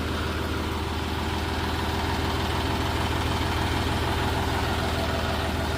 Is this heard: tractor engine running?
yes